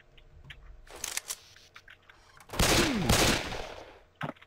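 Bursts of gunfire in the zombie shooter Left 4 Dead 2, several scattered shots early, then a loud dense volley of rapid firing in the middle and one last sharp shot at the end.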